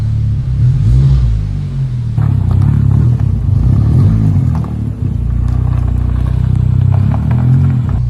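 A Honda Civic Si with a swapped K20C4 engine pulls away on its first drive, a loud close rumbling engine with rising and falling revs, clunks and clatter, no talk over it.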